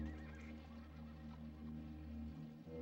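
A black gelding saddle horse neighs: a loud, sustained, close whinny that fades at the end over a faint low hum.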